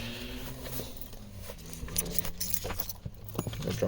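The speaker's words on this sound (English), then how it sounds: "I'll find my key here" Keys jangle and clink at close range while someone rummages for the ignition key of a GM U-body minivan, a steady metallic rattle with small bumps of handling noise and no talk.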